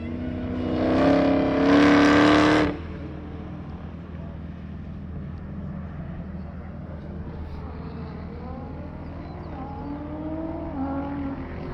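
An SRT Charger race car driven by David Carr on the Gingerman track roars loudly past, then fades to a distant engine whir under wind noise.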